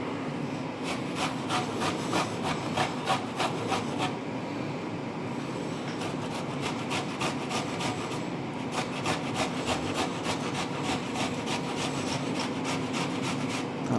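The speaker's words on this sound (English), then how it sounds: "I'm going to switch graters. Maybe I need to bin it. an old school box grater." An old school box grater scrapes in quick repeated rasping strokes, close and steady in two runs with a short pause between them, while cooking pork and pineapple noodles.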